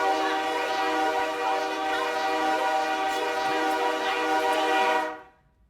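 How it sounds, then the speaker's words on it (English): A new train whistle blasts one long, loud, sustained multi-tone chord for about five seconds, close and alone, then cuts off abruptly into silence. "Heads up, Dad's new train whistle just arrived"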